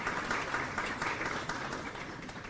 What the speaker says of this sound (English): If you'll join me in giving them a round of applause.